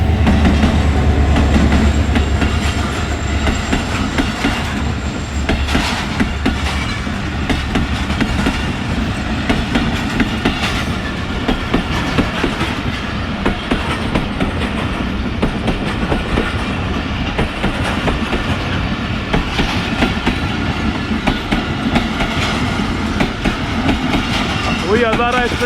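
A Hazara Express passenger train rolls slowly past at a rail crossing, loud steady rumble with rhythmic wheel clatter and occasional faint squeal, while a person talks nearby.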